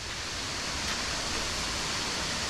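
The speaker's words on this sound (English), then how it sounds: "Oh, I can see a big waterfall" Big waterfall in the humid Koh Chang jungle, a steady broadband roar of falling water that holds evenly throughout, distant yet filling the scene, with no voices.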